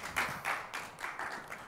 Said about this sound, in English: Can we just give a very warm round of applause for Mr. Eric Pinkerton?